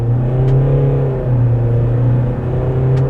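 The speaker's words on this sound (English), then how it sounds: "here's full power from almost a standstill" A 2020 Renault Koleos dCi 190 diesel pulls at full power from near standstill, giving a loud, close, steady engine drone that rises slightly in pitch, with no talk.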